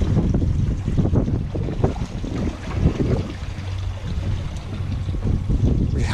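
A boat motor is revved hard, chugging and rumbling steadily over water and wind noise, with surges in its throb.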